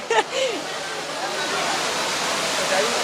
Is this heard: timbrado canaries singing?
no